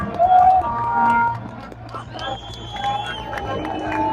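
Stadium crowd at a Super Cup award ceremony, a broad sustained roar of cheering and applause with scattered whistles and shouts, loud at first then easing slightly.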